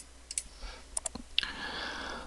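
A few sharp mouse clicks come close and quiet on the render button in V-Ray for SketchUp, followed by a faint hiss of computer fan noise.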